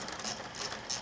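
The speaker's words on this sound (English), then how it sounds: "So tighten these down. 10 mil" A ratchet tightens 10 mm bolts on the valve cover of a BMW six-cylinder engine, making three quick, close clicking bursts evenly spaced about a third of a second apart, with no talking.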